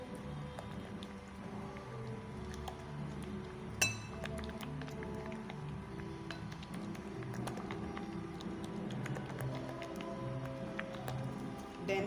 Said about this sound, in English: We stir properly.